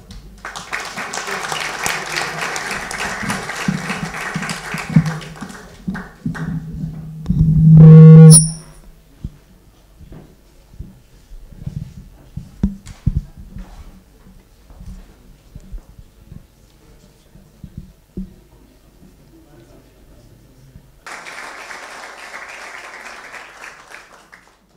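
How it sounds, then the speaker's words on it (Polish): Audience applause at an awards plebiscite evening, dense clapping at the start and again near the end, with a loud electronic feedback burst and sparse talking and rustling in between. "I prosimy o brawa"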